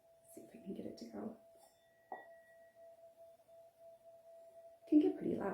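A thin, steady ringing tone from a singing bowl hums for several seconds beneath a person talking, with a soft strike partway through.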